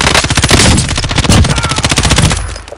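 Rapid automatic gunfire rattles loud and close in a battle royale video game, dense bursts of shots running almost continuously before easing off near the end.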